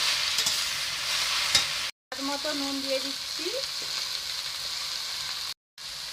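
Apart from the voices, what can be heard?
red amaranth greens frying and being stirred in pan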